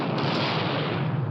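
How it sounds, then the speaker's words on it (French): Continuous heavy rumbling blast from an explosive charge placed by railway workers on a pivot to destroy locomotives, a loud, dense roar that holds steady throughout. "La puissance de l'explosion provoque la destruction de 52 locomotives."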